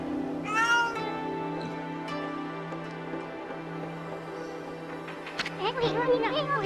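A cat meows in the video game Okami, a sharp rising meow early on, then quieter game sounds under a steady tonal background hum, with a person talking near the end.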